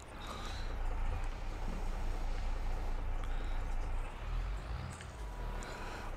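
A low, steady tractor engine drone in Farming Simulator 22 rumbles continuously, moderately loud and close, with no voices over it.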